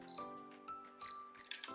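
Canon M50 mirrorless camera shutter firing for a single photo, a pair of crisp mechanical clicks close to the mic, with a faint electronic beep before and a tripod setup in a quiet room.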